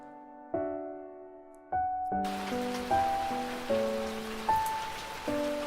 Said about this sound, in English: It rained. I stood for a long time in the rain before I was aware of it.